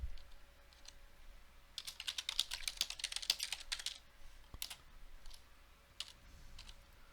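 Typing on a computer keyboard while writing PowerShell code: quiet clusters of quick keystrokes in irregular bursts, with a few isolated clicks in between and no talk.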